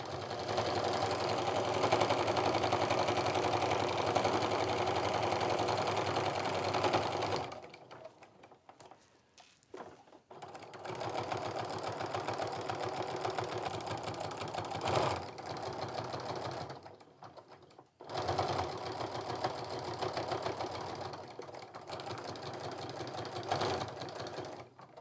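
A sewing machine runs in long steady bursts while it stitches a seam on a Christmas stocking. Its needle whirs in a fast, even rhythm, broken by short pauses, and it sounds close and clear.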